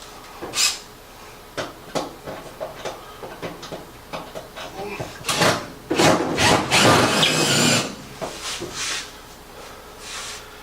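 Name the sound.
screws driven into range hood mounting cleat on wall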